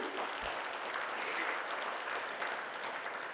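Large audience at an inaugural session in Mount Abu clapping together, a continuous, even roar of applause, quite faint and distant-sounding, running throughout without pause.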